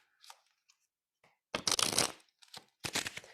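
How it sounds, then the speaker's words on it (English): A deck of playing cards is shuffled in a magic show, with a few soft taps and flicks and then two dense riffling bursts, close and crisp. "If I were to shuffle these cards"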